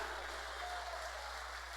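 A church congregation claps at a Spanish-language sermon, producing a steady, even wash of applause at low level, continuous from start to finish without speech on top.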